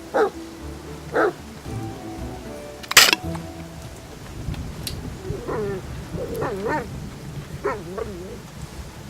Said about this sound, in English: I bet this dog leads me somewhere.